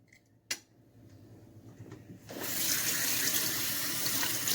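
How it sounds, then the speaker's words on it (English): A kitchen tap turns on and runs steadily into a sink to rinse seeds out of a halved pepper, preceded by a sharp clink and soft handling noises, then a loud, constant close stream of water. "you're going to rinse the seeds out of the pepper."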